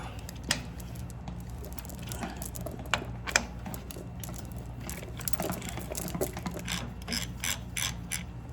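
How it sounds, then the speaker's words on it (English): A socket wrench loosens bolts on the tilt and nod gear mount of a machine, producing quiet, close ratcheting clicks in quick runs with a few sharper metallic knocks, and nobody talking. "I'll just go ahead and loosen these bolts up."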